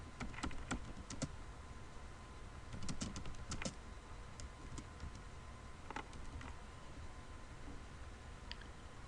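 Text is typed on a computer keyboard while editing a poster in Inkscape, quiet close key clicks in short irregular bursts and scattered single taps, with no voices.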